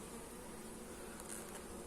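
Honeybees crowd thickly over brood frames in an open hive, making a steady, close, droning hum with no break.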